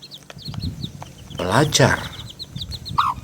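Young chicks peep in quick, high, repeated chirps, with a brief burst of louder fowl clucking in the middle and a voice speaking over it.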